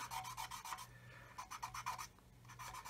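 Soft, fine rubbing strokes on a wetted Mr. Surfacer layer on a 1/35 plastic model kit, in short rhythmic bursts close up and quiet.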